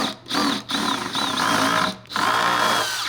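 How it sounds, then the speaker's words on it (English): A power drill bores holes into a car bumper on a Toyota Supra, three close, loud bursts of high whine separated by brief pauses. "we are drilling holes into the bumper right now"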